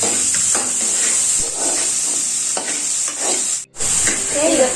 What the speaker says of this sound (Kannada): ಈಗ ನಾನು ಈರುಳ್ಳಿ ಹಾಕ್ತೀನಿ ಫ್ರೈ ಮಾಡು